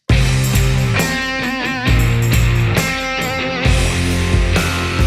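Distorted electric guitar through an amp simulator, riffs with chugging low notes and bending lead phrases, loud and upfront with no talking.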